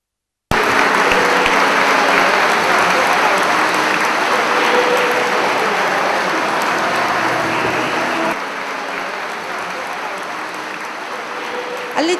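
Loud, sustained applause from a crowd inside a cathedral in Pozzuoli's Rione Terra as the first statue is carried in, dense clapping lasting throughout and easing slightly toward the end.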